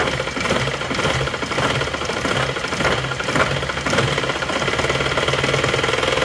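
An Isuzu Panther diesel engine with a late-sucking injection pump stutters and knocks unevenly after being revved, a loud, close, continuous rough running without any speech.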